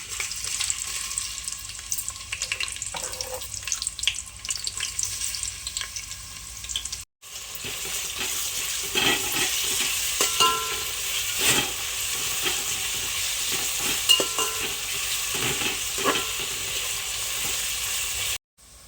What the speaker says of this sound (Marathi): आता आहे ना तेल तापलंय, तर त्याच्यामध्ये आपण कांदा टाकूया.